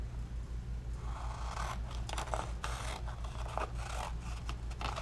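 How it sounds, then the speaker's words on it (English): Scissors slice through a sheet of paper card during Christmas crafting, giving a run of close, crisp snipping and rustling strokes over a steady low background hum, with no talking. "I'm gonna cut it in half."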